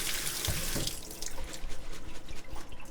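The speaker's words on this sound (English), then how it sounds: "I'm going to give it a quick rinse." Canned kidney beans for chili are rinsed in a colander under a running kitchen tap, a loud continuous splashing hiss of water that shifts as the beans are moved about, with no talk.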